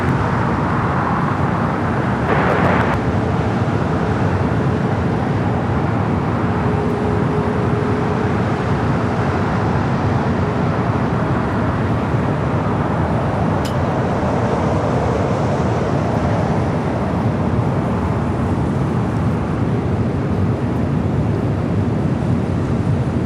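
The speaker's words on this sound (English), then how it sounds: "Our next takeoff. American Airlines flight 2766 heading to Dallas, Fort Worth, Texas." An American Airlines Boeing 737-800 takes off at LAX, bound for Dallas–Fort Worth, its jet engines a steady broadband roar that holds loud and unbroken throughout, with no voices.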